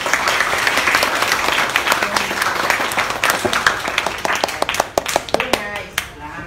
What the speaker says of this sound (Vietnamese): anh muốn các bạn mình cho một tràng pháo tay cho ban tổ chức để cảm ơn ban tổ chức Team Building